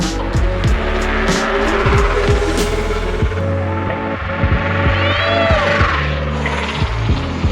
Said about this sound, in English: we're gonna ride it around and we're gonna see how fast we can get the scooter going.